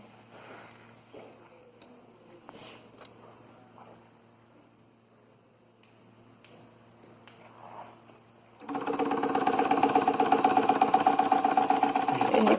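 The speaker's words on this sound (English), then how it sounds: "just to see that the motor powers the arm grabber up and down" Quiet machine sounds give way to a loud, rhythmic mechanical whir as a motor drives a robotic arm grabber up and down on a student senior design project, pulsing steadily for the last few seconds.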